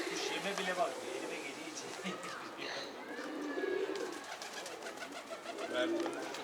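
A pet pigeon coos softly in a few low repeated calls over faint background rustle, with people speaking at moments.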